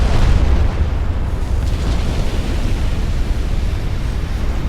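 A warship hit by a torpedo explodes in the naval video game Ultimate Admiral: Dreadnoughts, a loud, deep, rumbling blast that holds as a heavy roar for the whole stretch.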